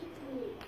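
A single soft, low pigeon coo, faint and brief, rolling over a quiet background.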